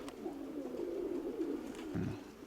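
A pigeon coos softly and low in a continuous warbling call, fairly quiet and close, with a short deeper coo near the end.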